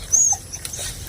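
Pet dogs whimper outdoors, giving one thin, high-pitched whine and a few soft, faint yips in a brief moment with no talking.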